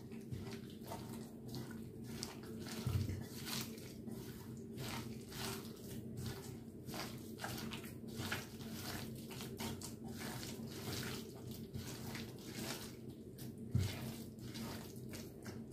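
A tap runs as hands are washed beneath it, a soft continuous stream of water with gentle splashes and rubbing, close by but fairly quiet, with a couple of brief knocks.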